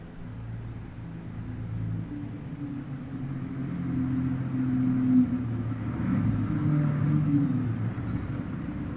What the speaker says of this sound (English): That's a car pulling up.